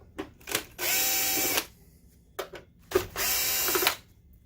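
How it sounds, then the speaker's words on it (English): A screw gun backs screws out of a BenQ PE8700 projector in two sustained whirring bursts, each a little under a second long and set apart by short clicks and brief taps, heard up close with no talk over it. "Make sure if you use a screw gun that your bit fits properly."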